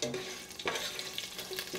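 Whole spices (cinnamon bark, mustard seeds and fenugreek) sizzle in hot oil as they are stirred for a crab gravy, a close, steady frying hiss with scraping stir strokes and no talk.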